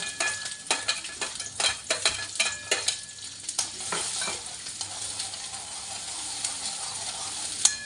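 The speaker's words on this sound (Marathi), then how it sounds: "कांदा टाकू" Chopped onion sizzles and fries in a pan for a green-chilli thecha with prawns, with a run of close stirring clinks and scrapes early on that settles into a steady, even hiss.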